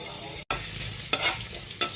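Ginger hitting hot cooking oil in a pan, a steady close sizzle with brief stirring scrapes, interrupted by a short gap and a couple of louder bursts, no talking.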